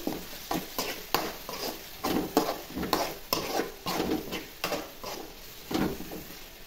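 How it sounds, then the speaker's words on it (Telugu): Green chili paste frying in a pan and being stirred, a continuous sizzle broken by repeated rhythmic scrapes of a spoon against the pan, close and fairly loud with no voices. "పచ్చిమిర్చి పేస్ట్ కూడా వేస్తున్నాను. వేసి ఒకసారి కలుపుదాం."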